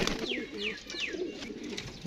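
A fighting-breed pigeon offered for sale gives three close, quick, descending calls in a row over a faint background murmur.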